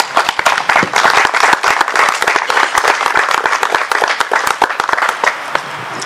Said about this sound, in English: So I'd like to first give them a round of applause.